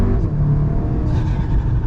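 Volkswagen Golf R engine breathing through a Remus valved exhaust in comfort mode, with an IE Stage 2 tune and non-resonated downpipe, giving a steady, loud low rumble close by with no clear revving peaks.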